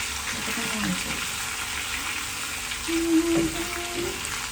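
Chicken frying in a pan gives a steady, loud sizzle that runs throughout, with a brief tonal clink near the end.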